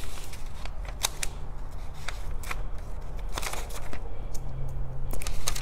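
Scissors cut out minky fabric pieces for a sewing project, giving close, crisp intermittent snips and rustles of the plush material with no talking.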